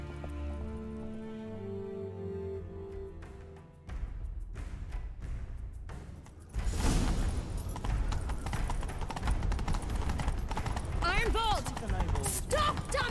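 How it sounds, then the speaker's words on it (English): Hooves clip-clop in a quick galloping rhythm in the video game The Witcher 3, amid game music and effects, with voices speaking over the action. "Grab a horse, we'll chase him down."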